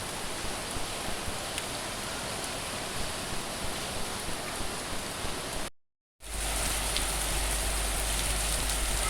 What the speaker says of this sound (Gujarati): વરસાદ ધોધમાર ચાલુ છે.